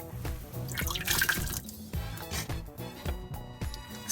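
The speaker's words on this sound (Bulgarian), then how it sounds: "Слагате в тенджера 250 мл вода" Water poured into a cooking pot with raisins, a close splashing and dripping stream with uneven pulses of liquid hitting the pot.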